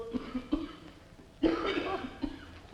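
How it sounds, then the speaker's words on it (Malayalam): Several sharp, close coughs, starting with a few short bursts and then a heavier, raspier fit, with brief pauses between them. "എന്തൊരു ചുമ"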